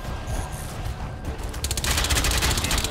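Gunfire in the video game Crysis 2, first muffled shots and then a loud, rapid burst of automatic fire filling the second half.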